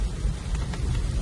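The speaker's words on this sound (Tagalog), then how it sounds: "Malakas ng ulan, di tayo makabilis ng takbo" Heavy rain pours down during a drive along a wet, slippery road, a dense steady wash with a deep rumble beneath, loud and constant with no voices.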